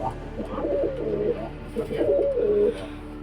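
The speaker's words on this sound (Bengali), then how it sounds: "দেখুন আরও কিছু পায়রা আছে দাদার" Pigeons coo in low, rolling phrases, two main bursts of soft throaty calls close by, with no talk over them.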